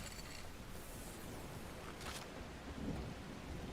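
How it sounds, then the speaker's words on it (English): Rain falls in the video game The Last Caretaker, a soft, constant hiss of drops with a low rumble like distant thunder, quiet and without any voices. "It is raining."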